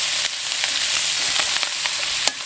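Macaroni sautéing in a pan with sautéed aromatics for Filipino sopas, a steady close sizzle and crackle with a few light stirring clicks.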